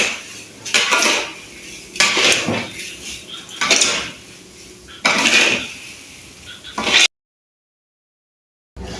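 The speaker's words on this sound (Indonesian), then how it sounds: "Kita aron sampai menguning ya sahabat berasnya" Dry rice is stirred and scraped in a pan as it roasts, giving repeated loud, gritty bursts of grains rattling against metal with a utensil scraping through them. The bursts come in a steady rhythm and end abruptly in silence.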